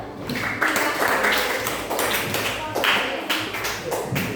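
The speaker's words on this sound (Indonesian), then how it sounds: "tepuk tangan untuk tanpa nama" Classroom applause from schoolchildren for a group, a steady patter of many hands clapping with a few accented claps, fairly close and loud, with a voice talking over it.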